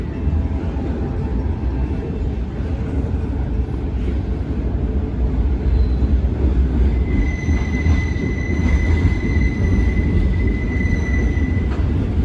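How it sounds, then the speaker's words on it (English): Freight train rolling past on a bridge, a loud steady rumble of railcar wheels with high metallic wheel squeals ringing out in the second half, continuous throughout with no talk. "Got another train coming."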